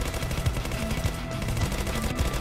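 Rapid automatic gunfire in the video game Zombie Uprising, with dense, continuous bursts of shots rattling at a loud, steady level throughout.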